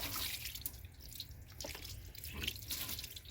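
Hose water sprays and splashes over the engine of a Dodge Charger, a steady hissing wash close by with irregular spattering and dripping, no voices.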